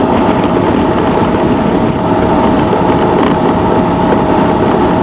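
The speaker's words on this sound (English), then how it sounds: "I hear more tire noise than I do wind noise at this point" Riding a 2024 Honda Transalp 750 fitted with a windscreen, spoiler and deflectors gives a loud, unbroken roar of tire and wind noise at speed, steady and dense throughout.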